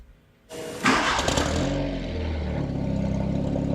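An MK1 Volkswagen Rabbit GTI fitted with an upgraded exhaust cranks and fires up, its engine catching with a loud surge and then settling into a steady, rumbling idle close by.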